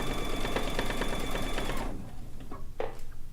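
A domestic sewing machine runs fast and steady for free motion quilting, a dense even stitching whir that stops abruptly, leaving a few soft handling clicks; no voices.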